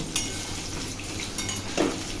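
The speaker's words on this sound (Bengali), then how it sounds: "সেই একই তেলে আমি ভেজে নিচ্ছি আলু" Sliced potatoes frying in a pan of oil, a steady, moderate sizzle with a few stirring scrapes and a light clink of a utensil near the end.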